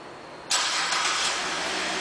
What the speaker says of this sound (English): That's the only way that the remote start will come on.